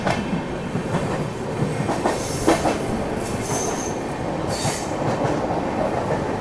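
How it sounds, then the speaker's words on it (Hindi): Mumbai–Delhi CR Rajdhani Express running fast at high speed through heavy storm and rain, skipping a station: steady loud rail roar with wheel squeal and brief clatter throughout, no talk. "हमारी ट्रेन कसारा को स्किप कर रही है।"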